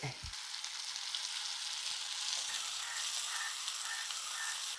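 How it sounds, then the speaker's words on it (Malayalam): Shallots frying in oil in a pan just used to fry chicken, making a soft, steady hiss and crackle that runs without a break, with no voices. "ചെറിയുള്ളി ഇട്ടു നന്നായിട്ട് വഴരട്ടെ നന്നായിട്ട് ഫ്രൈ ആവണം"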